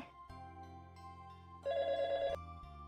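A landline telephone rings indoors in a household, a faint steady electronic ring that grows briefly louder near the end, with no speech heard.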